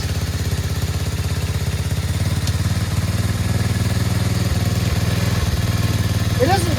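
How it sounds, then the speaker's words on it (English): A Chinese 125cc ATV quad engine running at a steady idle, a close, loud, even chugging putter with rattling clatter throughout, and a short voice near the end. "Now that we got it started, is it the brake switch?"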